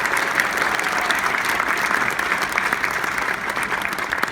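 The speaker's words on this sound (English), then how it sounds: "If we could give that a big round of applause." Steady, sustained audience applause at a school spring concert, a dense wash of many hands clapping evenly throughout.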